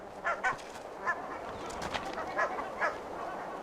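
Several geese give loud, repeated honks in short bursts, with calls clustered early and again later against a steady outdoor background.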